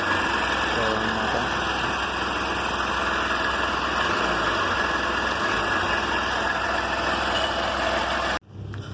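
The engine of a new Honda Unicorn 160cc motorcycle idles nearby with a steady, loud, even rumble, a voice talks over it, and the sound cuts off abruptly near the end.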